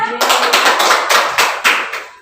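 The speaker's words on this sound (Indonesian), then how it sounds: "Tepuk tangan untuk teman-temannya." A burst of applause from a high school class, dense overlapping claps starting abruptly and continuing steadily, fairly loud and close.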